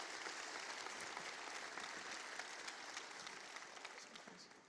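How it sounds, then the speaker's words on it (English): A crowd on the main stage of a tech conference applauds the speakers, a dense, even wash of clapping heard from a distance that tapers slightly near the end. "we want to give a big round of applause for all of the speakers who came and shared their knowledge"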